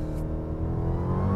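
Engine of a 2023 Dodge Charger Hellcat Redeye roaring in a steady, loud, deep rumble that climbs slightly in pitch over a second or so, heard close with no voices.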